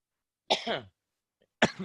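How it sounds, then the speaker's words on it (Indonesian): Two coughs with a pause between them, close and fairly loud, with silence around them. "Saya batuk dulu."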